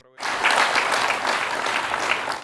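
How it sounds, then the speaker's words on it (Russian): Half-empty State Duma hall giving a short round of applause, clapping that starts abruptly, stays fairly even for about two seconds, then cuts off, with a voice briefly audible beneath it. "Полупустой зал ответил лишь аплодисментами, которые сложно назвать бурными или даже продолжительными"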